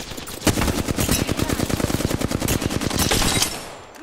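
Rapid automatic gunfire in the Apex Legends video game, a long run of evenly spaced close shots firing steadily for several seconds, loud and crisp, trailing off at the end.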